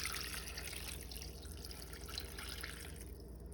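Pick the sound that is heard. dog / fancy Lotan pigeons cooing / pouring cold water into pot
pouring cold water into pot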